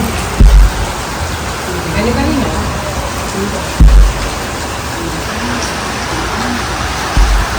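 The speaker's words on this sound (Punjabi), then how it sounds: "ਮੀਂਹ ਪੈਣੇ ਲੱਗ ਗਿਆ" Rain falls steadily with a broad wash of noise, interrupted by a few loud low thumps; faint voices murmur in the background.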